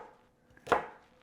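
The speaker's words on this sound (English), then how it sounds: "I am chopping up this other one" A single sharp knife chop through a white onion on a cutting board, close and quiet, with faint kitchen background and no talking.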